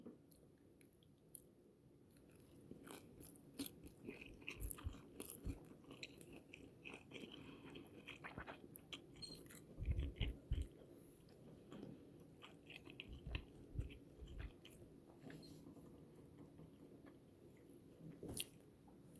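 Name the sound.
crunchy bite and chewing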